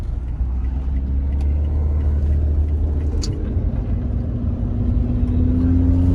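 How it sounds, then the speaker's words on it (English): A supercharged Lotus Evora 400 drones steadily from inside the cabin on a country backroad, its engine tone climbing near the end, with faint intake and supercharger noise under the rumble. "It is so addicting to hear the intake noise, the supercharger whine"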